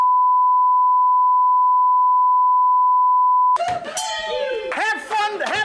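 A steady, piercing censor beep holds for about three and a half seconds, bleeping out swearing, then cuts off as a loud voice takes over.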